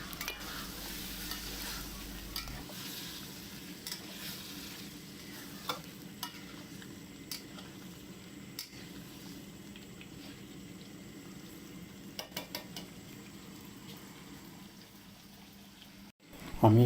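A pot of chicken fried rice simmers after water is added, giving a soft steady bubbling sizzle with occasional stirring scrapes and clicks, close and low in level.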